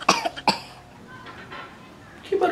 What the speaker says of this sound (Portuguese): Que barulho é esse? Alguém tossiu.